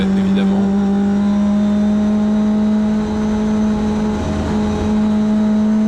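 A McLaren GT race car engine drones loud and steady while accelerating in a racing video game, a sustained buzzing tone that dips slightly midway, with someone speaking over it.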